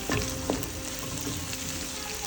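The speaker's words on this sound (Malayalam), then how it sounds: "മൂന്ന് പച്ചമുളക് ഇട്ടൊന്ന് ചെറുതായിട്ട് ഇളക്കി കൊടുക്കാം അതൊന്ന് വാടി വരട്ടെ" Three green chillies sizzle in hot oil in a pan for a Kerala crab roast, a steady close crackle with a couple of scraping stirs.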